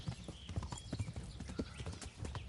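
Horse hooves clip-clop steadily at a trot in the medieval game Kingdom Come: Deliverance, with even, repeating footfalls close up under a faint ambient bed.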